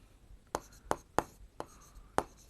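Chalk or marker strokes writing a triangle's base length on a board during a Class 7 maths lesson, five sharp taps and scratches at an uneven pace, close and clear with no talk.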